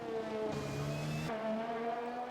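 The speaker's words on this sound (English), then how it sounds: "I hate that noise, that bottoming out as you go around that corner." Formula 1 race car in the F1 2021 game at the Dutch Grand Prix, scraping and bottoming out through a corner, a steady loud engine drone with tonal shifts as it scrubs along, no talk.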